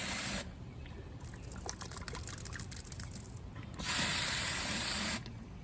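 Water sprays and splashes while a garden sprayer bottle is rinsed out, coming in two bursts with softer trickling and clicking between them, close by.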